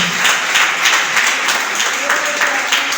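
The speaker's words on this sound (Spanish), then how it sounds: "Cuánto le da un aplauso a Jesucristo por eso" Steady applause from a church congregation fills the whole stretch, a dense, even wash of clapping.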